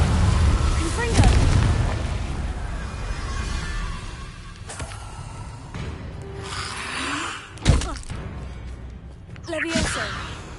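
Confringo fire-blast spells in Hogwarts Legacy burst with several sharp, booming impacts spaced a few seconds apart, the loudest near the middle, over a busy bed of combat effects and magic crackle.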